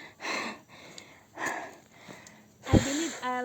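Heavy panting during a hike up Mt. Daraitan, breathy huffs coming in a loose rhythm, close to the mic, ending in a deeper, rougher breath with a faint voiced sound.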